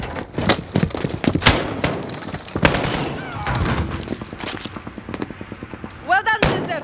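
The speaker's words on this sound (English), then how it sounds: "Point and shoot until they fall," Gunfire from the Modern Warfare game's Captive mission: several loud, sharp shots and thuds crack out in quick succession, followed by quieter impacts while voices speak over the action.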